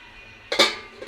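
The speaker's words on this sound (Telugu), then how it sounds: "మూత పెట్టుకుందాము." A lid set onto a cooking pot of gongura curry: a single close metallic clank with a brief rattle, then a faint softer tap as it settles.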